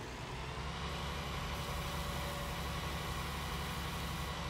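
The John Deere 8000i tractor in Farming Simulator 19 gives a steady, continuous engine drone at an even low idle, with no other sounds over it.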